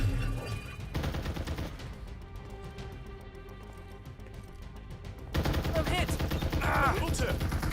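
Rapid bursts of gunfire crackle through a Farlight 84 battle, dense and loud at the start, easing into a quieter stretch of scattered shots, then surging back into heavy, close firing near the end.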